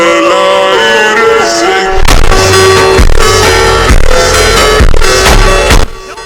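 A SCAR rifle fires in the Free Fire video game, a loud series of sharp shots cutting through the game's music and effects, spaced roughly a second apart.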